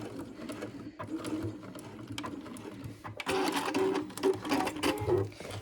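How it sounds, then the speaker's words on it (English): A sewing machine stitches back over the top seam of a crossbody bag, a steady mechanical whir that runs continuously and grows louder and busier in the second half, with no talking. "you can just go back and sew over that again"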